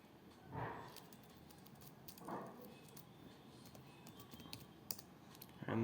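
Someone types login credentials on a computer keyboard while a Metasploitable Linux virtual machine starts up, producing quiet, scattered keystrokes with a few short louder bursts and faint background noise.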